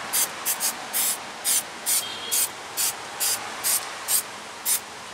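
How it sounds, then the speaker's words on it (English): Short bursts of Fluid Film aerosol spray onto the front wheel hub of a 2007 TrailBlazer, about ten sharp hissing puffs in a steady rhythm, close and alone. "Spray up the whole front end of the hub, including this edge right here, some fluid film."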